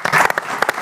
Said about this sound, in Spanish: Un fuerte aplauso para Pierna Loca.